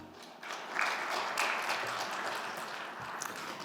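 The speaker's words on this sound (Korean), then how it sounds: "뜨거운 박수로 맞이해 주시기 바랍니다" Audience applause at a broadcaster's anniversary AI forum, greeting a vice minister of science and ICT as he comes to the stage; a steady, moderately loud wash of clapping that swells early and holds for several seconds.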